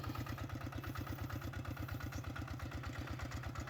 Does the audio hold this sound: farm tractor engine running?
yes